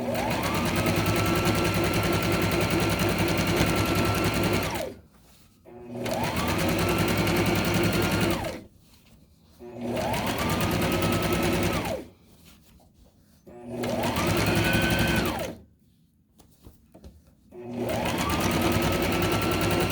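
Sewing machine stitching a backpack seam in five steady runs of several seconds each, starting and stopping with short quiet gaps between them, close and fairly loud, with no talking.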